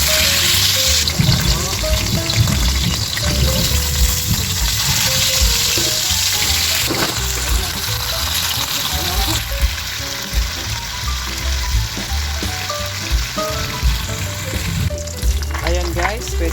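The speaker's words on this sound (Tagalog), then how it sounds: "Ayan guys, mainit na yung ating mantika. Kaya lalagay na natin yung ating tilapia." Tilapia frying in hot oil, a loud, dense, continuous sizzle and crackle close up, with occasional pops and clatter of utensils, no talking.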